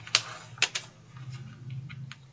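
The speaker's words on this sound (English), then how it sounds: "I'm going to peel away my tape backer." Tape backing peeled off in a few sharp ripping bursts, followed by quieter crinkling and rubbing, close and fairly faint during a Dollar Tree cutting board craft.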